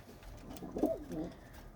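A pigeon coos close by, a soft throaty rolling call heard once against quiet background.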